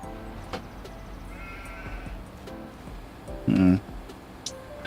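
A sheep bleats once on a farm in Farming Simulator 25, a short, loud cry rising clearly above low, steady game ambience.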